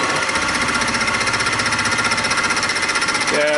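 A fly cutter on a mini mill takes a climb cut across aluminum. It makes a loud, close, steady chattering hum with a rapid pulsing beat that continues without pause, and a brief change in tone comes right at the end.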